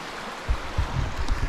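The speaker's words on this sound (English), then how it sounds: "What a beautiful little river brook waterfall all the way down." A small river brook waterfall at the south end of a lake, a steady rushing flow with low churning rumbles from close by, outdoors with no voices.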